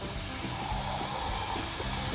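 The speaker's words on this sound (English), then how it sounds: "the rest, I'm just going to fill up with tap water" Tap water runs into a roasting pan for a turkey, a steady hissing rush of water splashing, faint and continuous.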